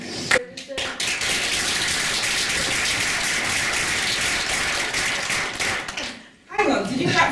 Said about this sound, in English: Hang on, did you clap for me?